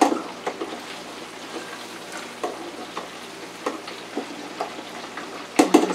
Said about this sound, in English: Just let that fry some.